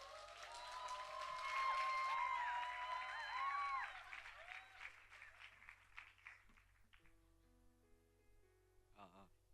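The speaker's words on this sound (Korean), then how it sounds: "우리 박수로 좀 맞이해 주세요" Church congregation at a Sunday afternoon student-led service clapping to welcome a high school student up to give a testimony, swelling then fading over about six seconds, with voices and a faint microphone sound after it dies down.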